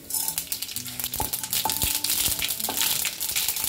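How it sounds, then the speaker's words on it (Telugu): Chillies, mustard seeds and cumin seeds frying in hot oil in a kadai, giving a steady close sizzle and crackle with a few brief higher metallic tones, no talking. "బాగా ఫ్రై అయిందండి"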